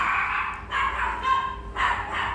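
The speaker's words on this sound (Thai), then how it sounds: "เดี๋ยวสงบ เจ้าสุนัขหลังบ้านก่อน" A dog behind a house barks in several short yips and bow-wows that come in uneven bursts. The barking is moderately close and sounds whiny, with a voice faintly present in the background.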